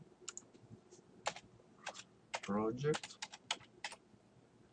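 Keys clatter on a computer keyboard as a password is typed while setting up home WiFi, quick light clicks in irregular bursts with a person speaking over part of it.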